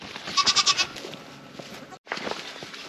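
Goats give a quick run of four or five close, loud bleats while being walked down to the lower pasture on a homestead, then farmyard ambience continues.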